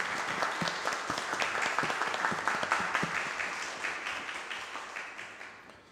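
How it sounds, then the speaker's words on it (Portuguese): Applause in a municipal council session, a room full of people clapping steadily for several seconds before gradually thinning out. "gostaria de pedir essa casa uma salva de palmas"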